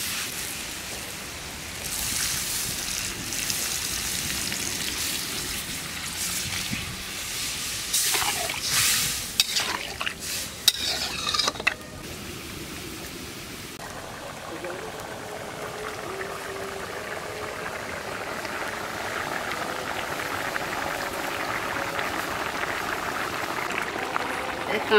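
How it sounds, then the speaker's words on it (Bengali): Water poured into a pan of fried potatoes cooking in a village kitchen makes a steady loud sizzle and bubbling hiss that shifts into softer simmering, with no talk. "এবারে জল দিয়ে দিচ্ছি।"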